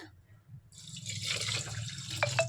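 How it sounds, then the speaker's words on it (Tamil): Water is poured into a pressure cooker for pongal, a soft, steady splashing stream with faint clinks near the end, set over a low background hum. "தண்ணி ஊற்றிக்கலாம்"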